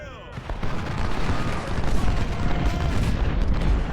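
Dense, continuous volleys of musket and artillery fire rumble from a Civil War battle in Ultimate General: Civil War, steady and loud throughout with no pauses.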